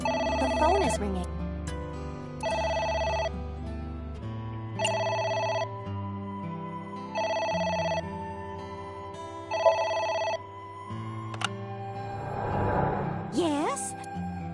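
A telephone rings in the video game AI: The Somnium Files, repeated electronic rings in regular bursts over low game music, with a brief voice and effect near the end.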